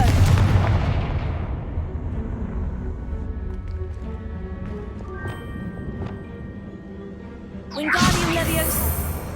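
Confringo fire spell blasts in the Hogwarts Legacy video game: a heavy booming explosion opening the clip, a rumbling tail with scattered crackles, then a second loud fiery blast near the end.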